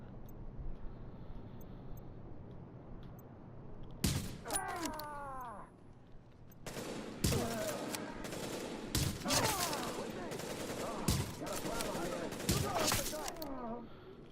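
Gunshots in the video game Hunter's Faith, sharp loud cracks in irregular bursts, some quick repeated fire, over a steady ambient background with a voice talking now and then.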